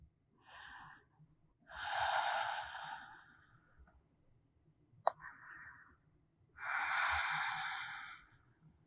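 Deep, slow breaths during a vinyasa yoga session come as long airy inhales and exhales, close and soft, with a brief sniff between them and quiet pauses in between.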